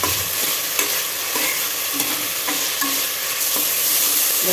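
Chopped tomatoes are sautéed in a pot for a rice and lentil one-pot dish. They give a steady, loud sizzle, and a spoon stirs and scrapes against the pot in a regular rhythm, close up and with no speech.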